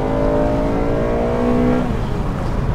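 Honda engine with a VTEC crossover just under 6,000 RPM and a roughly 7,500 RPM redline, revving hard with a loud, steady climbing tone that shifts character near the end.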